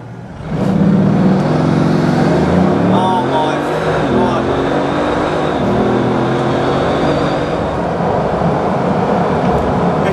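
A 2008 Bugatti Veyron launching hard from a standstill, its engine roaring loud and close with rising harmonic sweeps through a quick burst of acceleration, a steady road and wind roar beneath, with voices talking over it.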